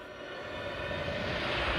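A steady, low droning roar from a plane's aircraft engine in the video game Time Crisis 4, continuous and fairly loud with a slow swell, heard alone without speech.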